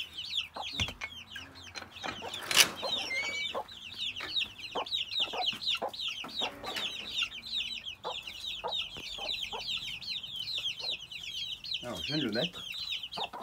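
Adult hens cluck steadily and busily while pecking at bread, a dense overlapping chorus close by, with someone speaking briefly over them.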